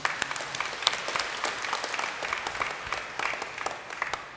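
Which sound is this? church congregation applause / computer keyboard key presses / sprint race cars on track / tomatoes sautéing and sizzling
church congregation applause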